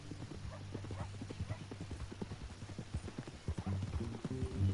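Horse hooves clip-clop at a steady walking pace in the video game Red Dead Redemption, with a low hum and faint murmuring in the background.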